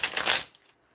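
Tarot cards riffled in a quick shuffle, a dense crisp flutter of card edges for about half a second, then a soft tap and near silence.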